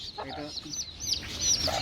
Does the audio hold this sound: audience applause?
no